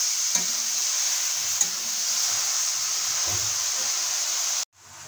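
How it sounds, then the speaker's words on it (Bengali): Drained boiled carrots for halwa fry in a wok over low heat, giving a steady sizzling hiss with a couple of soft stirring knocks before the sound cuts off near the end. "নেড়ে নিচ্ছি।"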